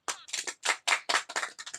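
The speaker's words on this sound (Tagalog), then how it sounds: "Palakpak!" A few sharp, distinct claps in a quick series at a virtual class demonstration, close and clear with brief gaps between them, nothing else around them.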